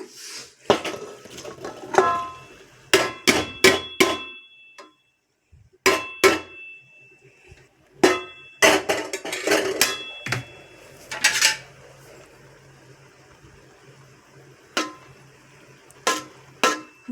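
A metal cooking pot and lid clang and clink repeatedly as cooked rice is moved for chicken dum biryani, sharp close ringing hits in irregular bursts separated by quiet gaps, with no talking.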